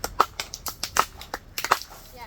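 Loud cupped-hand claps, used as an SOS signal during a kids' jungle survival lesson, ring out as sharp separate cracks in an uneven rhythm, about a dozen in quick groups, with a voice speaking between them.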